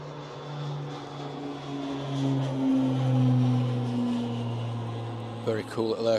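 A small light aircraft, likely propeller-driven, passes by at Manchester airport with a steady droning engine tone that swells and fades over several seconds, with a brief burst of other noise near the end.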